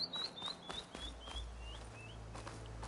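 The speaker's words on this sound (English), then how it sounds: "even just listening to the birds in the background is just something" A bird in the video game Horizon Forbidden West repeats short rising chirps in a quick series, faint and somewhat distant, over a low background rumble with a few soft knocks.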